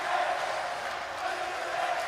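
A basketball crowd at a Delta Cup game between Level Up Lubao and Villa de Bacolor, a steady roar of many voices chanting and shouting from the stands, fairly distant and continuous, with no single voice standing out.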